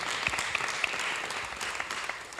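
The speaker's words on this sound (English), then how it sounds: "A big round of applause for our panelists." Conference attendees applaud panelists at a session on public-private data sharing, a brief, steady patter of clapping from a moderately sized crowd heard at a distance.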